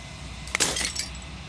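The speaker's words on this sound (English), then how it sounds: "The final fragment of glass shatters." Glass shattering in Slay the Princess, a single bright crash of breaking glass with tinkling fragments that ring out briefly before fading, heard alone over a low ambient hum.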